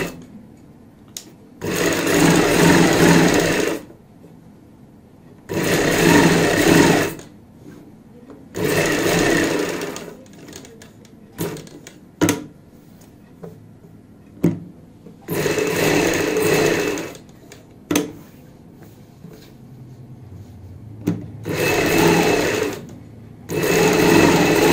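A sewing machine stitches lace onto a kurti neckline in repeated whirring bursts of a few seconds each, separated by pauses and short clicks.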